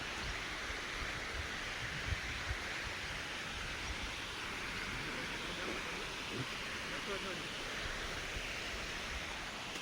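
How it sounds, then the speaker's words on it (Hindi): Waterfall pouring over rocky stones near a railway line, a dense, steady rushing roar that stays even and continuous throughout with no distinct breaks. "वाटरफॉल,"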